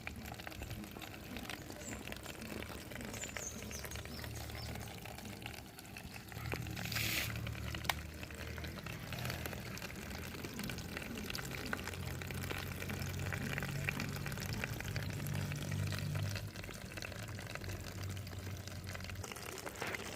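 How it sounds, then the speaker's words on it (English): Water rushes and gurgles steadily into a narrow channel, a soft continuous flow heard at low volume from close range. "the water will flow like this and come to this small canal"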